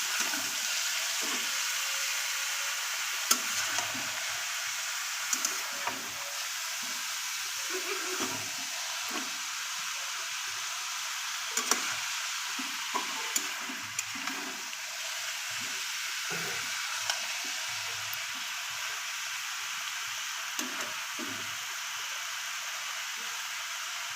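Cabbage and fish head being stirred together in a frying pan for a Bengali fish-head cabbage dish, a steady sizzle with repeated soft scraping and clinks of the spoon throughout, no voices.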